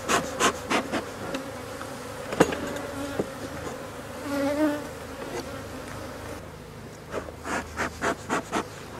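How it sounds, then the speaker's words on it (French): Honey bees buzz steadily at close range at an open hive after swarming, with smoke applied, a continuous droning hum broken by a series of sharp rhythmic taps and knocks. "J'envoie la fumée, il reste des abeilles."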